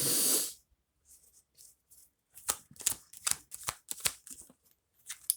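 Tarot cards being shuffled by hand, a burst of riffling at first, then a run of quick papery slaps and flicks in uneven groups, close and fairly clear with no talking.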